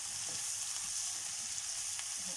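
Two large chopped eggplants sizzle in a dry pan with no oil, a continuous, even hiss of frying with faint scraping stirs, close and steady throughout.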